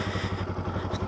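A motorcycle stuck on a rough, newly opened mountain trail, its engine chugging in a steady low idle-like rhythm with faint clatter, fairly close and continuous.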